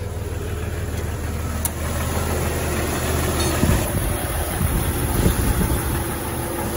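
A Jeep XJ engine runs at a steady idle close by, a continuous low rumble with a few brief knocks and rattles over it and no speech.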